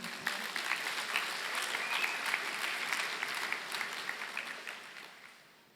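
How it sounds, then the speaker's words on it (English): High school graduates applaud at a commencement ceremony, a dense, steady wash of clapping from a large crowd that fades toward the end. "You can clap for yourselves."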